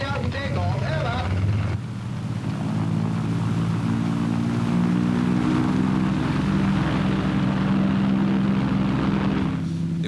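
A Vickers Wellington bomber's piston engines drone in a steady, loud hum as the aircraft taxis out, with wind buffeting the microphone. A brief radio-style voice is heard at the very start.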